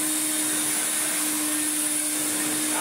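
An Electrolux Turbo 2 Z1070a vacuum cleaner running with its brush spinning, a steady loud motor whine with a fixed hum and constant airy rush, unbroken throughout.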